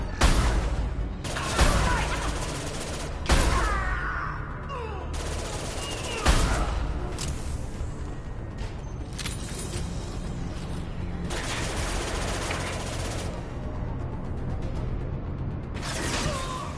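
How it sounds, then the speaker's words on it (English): Gunfire in the Mass Effect 2 video game, with several sharp blasts early on and scattered shots trailing into a busier, lower combat din. "Stop shooting, Shepard!"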